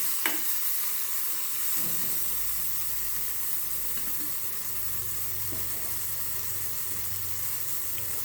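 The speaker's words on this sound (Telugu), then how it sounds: "ఓకే అండి, టమాటో వేగాయి." Tomatoes sizzle and fry steadily in a pan on a gas stove, with occasional scrapes of stirring over a continuous hiss, close and fairly loud with no talking.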